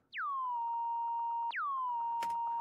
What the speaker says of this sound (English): It's literally just a sine wave.